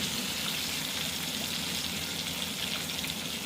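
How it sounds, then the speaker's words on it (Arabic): Breaded chicken panee fries in hot oil, giving a constant dense sizzle that holds steady and fairly loud throughout. "وكده تقلبيهم لما يتحمروا كويس وتحسي ان هما نشفوا معاكي"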